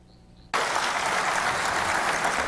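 Audience applause for Missouri Governor Jay Nixon at an event on 2011 special-session economic development plans erupts suddenly after a quiet half second, then holds as a loud, dense, steady clapping.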